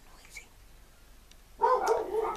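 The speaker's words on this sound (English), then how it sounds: "my dog's being so noisy" Close indoor dog barking begins partway through, a loud run of yappy barks and whines after a quiet stretch with a faint earlier yip.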